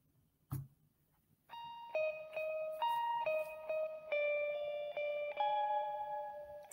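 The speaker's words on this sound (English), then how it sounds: "Some kind of plucky, clean tones." Clean electric guitar from a song plays plucked, ringing notes in a steady melodic pattern, each tone sustaining with a touch of echo, after a brief click.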